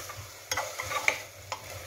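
Chicken pieces fry in a pan for a simple Nepali-style curry, with a soft, low sizzle and a few sharp scrapes of stirring that come and go close by, no voices.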